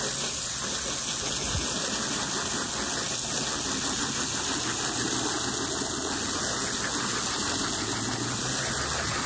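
Water pours steadily over car floor mats from an EF hatchback as they are rinsed by hand, a continuous close broadband hiss and splash with no talk.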